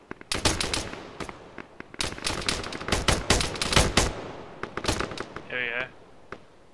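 Military video game firefight in ShackTac: bursts of automatic gunfire and single shots crackle close and loud in uneven clusters, with a voice talking over the shooting.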